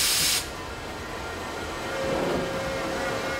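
A sharp burst of hissing steam opens, then gives way to a low mechanical rumble and a faint steady whine from a canal lock locomotive that guides ships through the lock.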